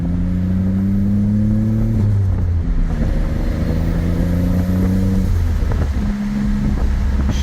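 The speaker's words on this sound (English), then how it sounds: "That way you can hear that turbo and that blow-off valve" A loud turbocharged 1986 Nissan 300ZX Turbo engine with a Greddy turbo revs and shifts pitch, with the hiss of a blow-off valve between pulls; no talking.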